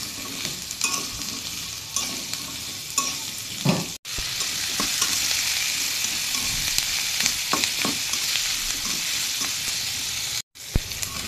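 Chopped onion and garlic fry in a pan for a shutki bharta, giving a dense, continuous sizzle with scattered crackles and occasional stirring scrapes. The sound stays close and full and is briefly cut twice, with no voices.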